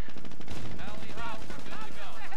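Machine gun fire rattles in Company of Heroes as Volksgrenadier squads shoot at engineers, a rapid stream of shots running under a commentator's steady talk.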